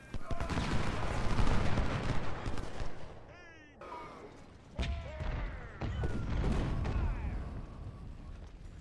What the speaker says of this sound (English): He's in a building in Washington firing at an enemy infantry unit facing the wrong way.